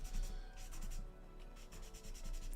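Soft, rhythmic rubbing strokes as a small model kit part is sanded by hand, faint and close, repeating in short bursts with no talk.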